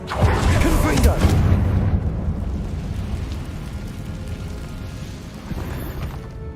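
A Confringo fire spell explodes in Hogwarts Legacy, a loud booming blast at the start that rolls into a long rumbling decay, with a voice calling over it.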